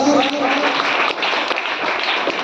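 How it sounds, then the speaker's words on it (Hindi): Loud applause for India during a speech about elections, a brief, dense burst of clapping that fills the whole moment. "इसलिए हमारे भारत देश के लिए एक बार जोरदार तालियां मारिएगा।"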